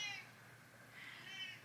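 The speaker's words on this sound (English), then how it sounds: "have an annoying cat at me" A pet cat, a female, meows twice, once at the start and again near the end, soft and close in an otherwise quiet indoor room.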